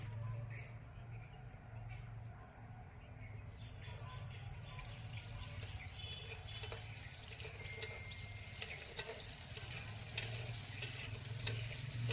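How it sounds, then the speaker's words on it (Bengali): Potatoes fry in a black cumin tempering at an outdoor picnic cookout, a faint, steady sizzle with occasional stirring scrapes while people talk nearby. "কালো জিরে ফোড়ন দিলো এবারে আলুটা দিচ্ছি"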